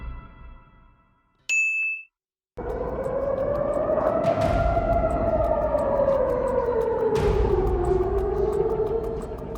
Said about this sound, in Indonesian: Alarm sirine berbunyi di tengah langit kota-kota termasuk Tel Aviv dan Yerusalem